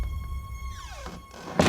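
A door shuts with a single solid thunk near the end, following a descending tonal sweep and quiet background.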